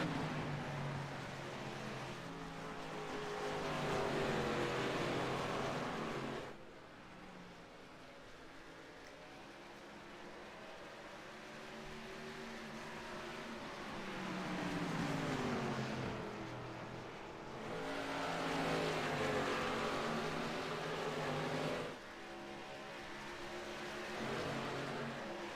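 Race car engines from a sim racing league Cup Series video game race, a steady broadband roar with harmonic engine tones that swell and fade as cars pass, sustained without talk.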